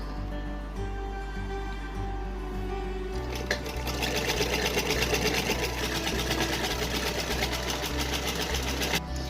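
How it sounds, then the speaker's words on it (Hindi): Sewing machine running a straight seam along the hem of a small Bal Gopal night suit, first a quieter steady whir, then louder fast stitching with a rapid mechanical chatter, close up and continuous with no talk. "यहाँ पर हम एकदम सीधी सिलाई लगा देंगे"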